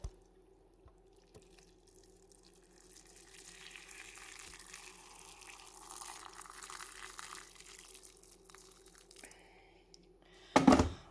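Hot water poured into a cup of instant soup with bamboo shoots, a soft running trickle building over several seconds, then a brief louder splash near the end; no talking.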